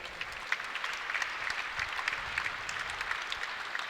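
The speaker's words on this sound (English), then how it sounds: "And Deaton, give him a big round of applause." Steady audience applause fills an indoor archery tournament venue at the NFAA Indoor Nationals, a dense, even patter of many hands at moderate distance, with no clear voices over it.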